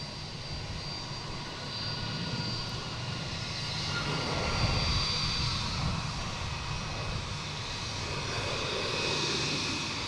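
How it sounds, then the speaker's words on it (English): United Airlines jet taking off from Boston Logan International Airport, a broad, steady engine roar that swells toward the middle and holds at moderate distance, with no talk over it. "Next taking off is United Airlines heading to San Francisco"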